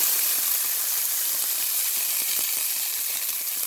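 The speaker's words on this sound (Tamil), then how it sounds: "இந்த இஞ்சி முள்ளி நல்லா வதங்கட்டும்" Garlic and ginger sautéing in a hot pan for egg fried rice, a loud, steady broadband sizzle close by with faint crackles and no talking.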